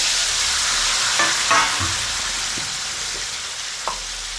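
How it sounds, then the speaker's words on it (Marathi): Moringa drumsticks frying with turmeric in a pan give a steady, fairly loud sizzle and hiss, with a few soft scrapes of stirring and no voices. "त्यानंतर हळद टाकून घ्यायची आहे आणि शेवगा टाकून घ्यायचा आहे."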